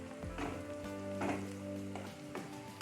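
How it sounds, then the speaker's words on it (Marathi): Chopped onion fries in a pan for a masala dosa potato bhaji, a steady sizzle with scraping stirs and soft clinks. "आता हा कांदा लालसर होऊ द्यायचा."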